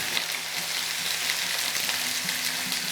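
Chicken meat fries in hot oil with a steady, dense sizzle and crackle that runs the whole time, close and even, with no voices.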